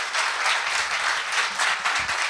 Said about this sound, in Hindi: सभी लोग एक मर्तबा जोरदार तालियां बजाकर।